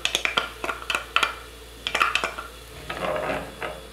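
Onion and garlic sautéing in a pan while being stirred: quick bursts of scraping utensil clicks over a soft background sizzle, with a pause midway before the stirring resumes.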